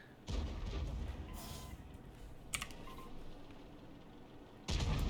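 M40/M43 tank artillery gun firing in a tier 10 video game match, two heavy booms with rumbling decay, the first near the start and another near the end, with brief clicks in between.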